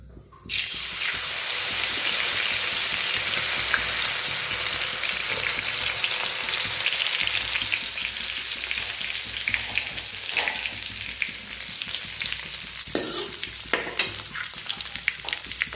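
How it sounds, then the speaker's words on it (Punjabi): Cumin seeds crackle and sizzle loudly in hot oil for an Indian tadka, a steady dense frying hiss from a sudden start that eases slightly, with a few scrape and clink accents near the end. "ਤੇਲ ਗਰਮ ਹੋ ਚੱਲਿਆ ਜੀ ਸਾਡਾ ਤੇ ਹੁਣ ਪਾਉਂਗੇ ਅਸੀਂ ਇਹ ਚ ਜੀਰਾ"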